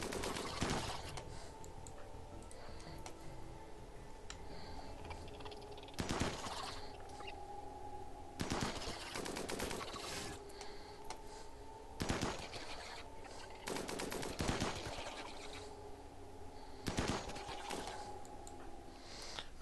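RimWorld gunfire pops out in sharp, spaced single shots over a low steady hum, with several distinct cracks spread across the stretch and no talking.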